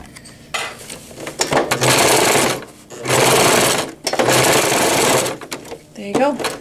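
Sewing machine tacking down elastic on a pocket diaper, running in three loud close bursts separated by short pauses, with a voice speaking briefly between stitches.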